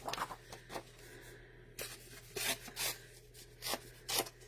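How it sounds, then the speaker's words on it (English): Several short, bright ripping bursts sound close up as paper is torn in quick strokes, separated by quieter rustling and handling noise. "who just loves the sound of tearing a piece of paper?"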